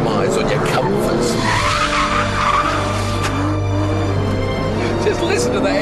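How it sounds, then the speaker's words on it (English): A V12 engine roars under hard driving, a loud sustained drone that rises in pitch as the car is pushed, with tire noise mixed in and someone talking over it. "Just listen to the engine. It's just stonkingly good."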